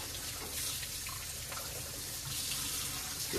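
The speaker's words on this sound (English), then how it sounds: "getting a good soaking and a rinsing off of the salt" Running tap water rinsing salt off cured bacon slabs before cold smoking, a steady close splashing rush of water with no talk.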